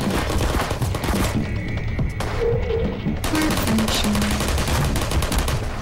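Sentry turrets fire in the video game Portal, loud continuous rapid bursts of automatic gunfire with electronic tones mixed in, dense and close throughout.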